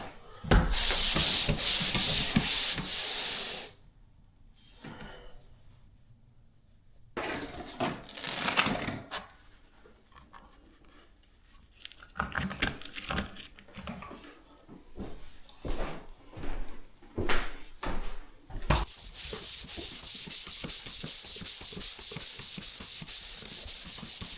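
Sandpaper is rubbed by hand over drywall tape in repeated bursts of harsh scratchy strokes, loud and close, separated by quieter pauses and ending in a long steady stretch of sanding.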